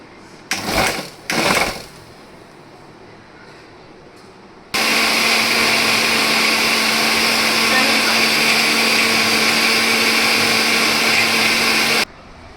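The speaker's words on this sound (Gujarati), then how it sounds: "અને હવે આપણે તેને મિક્સરમાં ક્રશ કરી લેશું." Electric mixer grinder crushing dates with sugar, milk, cardamom and nutmeg powder, a loud steady high-pitched whir running for about seven seconds after brief handling noises at the start.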